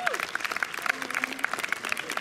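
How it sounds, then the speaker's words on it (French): Lively applause for film directors at a French film event, a crowd clapping briskly with bright, dense claps and faint voices mixed in under the ovation. "si on peut les applaudir encore"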